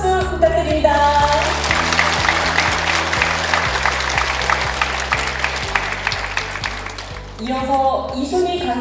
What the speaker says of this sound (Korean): 다 함께 큰 박수 부탁드립니다.